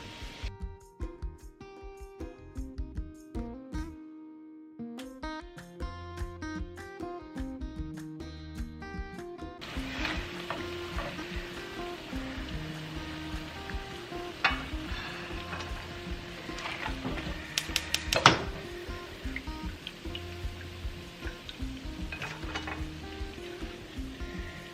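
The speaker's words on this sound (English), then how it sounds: "Once that is ready, like that, you'll put it back in the oil." Pressed plantain fries in hot oil, a soft crackling sizzle that emerges after the first few seconds beneath prominent background music.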